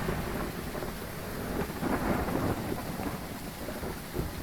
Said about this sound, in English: God, it's thunder, too.